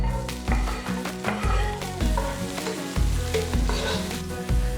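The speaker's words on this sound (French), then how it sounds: "Commencez par ajouter un fond d'huile et démarrer avec les oignons." Onions frying in a base of oil for thieboudienne, a dense close sizzle broken by repeated utensil stirs and clatter, with no voices.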